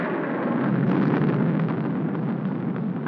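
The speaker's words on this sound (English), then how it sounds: "I'm afraid of the thunder and lightning." Thunder rolls in a 1946 film scene, a loud continuous low rumble that holds steady for about three seconds with no dialogue over it.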